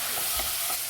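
Chopped okra and tomato frying in a pan for an okra-tomato curry, giving a steady close sizzle with a few soft stirring thumps through one second.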